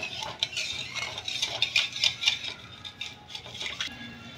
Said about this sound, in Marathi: आता साखर विरघळेपर्यंत आपल्याला हे असंच हलवत राहायचं आहे।